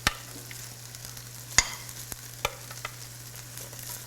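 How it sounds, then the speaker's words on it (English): Broccoli sizzles and crackles as it stir-fries in a hot pan, with a few sharp clinks and scrapes of stirring over a constant low hum. "now we're just going to add in the broccoli, and it's pretty much like stir frying it actually"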